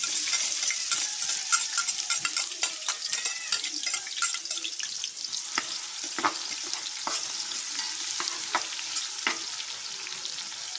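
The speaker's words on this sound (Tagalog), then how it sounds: "Sabay-sabay na lahat. Bawang sibuyas, luya." Garlic, onion and ginger sizzle steadily in a pot while a utensil stirs and scrapes with irregular clicks.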